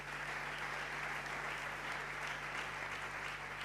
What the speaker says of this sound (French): On peut acclamer notre presse.